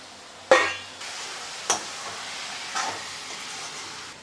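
Onion and tomato being stirred in a kadai while frying for tomato thokku, a few sharp scraping strokes over a steady soft sizzle, close and alone with no voices.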